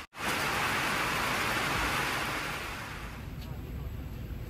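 Steady rain falls on a river raft on the Chao Phraya River before dawn, a dense even hiss that fills the scene and eases slightly toward the end.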